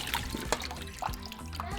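Cut potatoes rinsed under running water in a bowl, a soft trickle with light splashes and a few clinks close by, without any talk.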